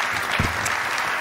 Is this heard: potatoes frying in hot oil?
no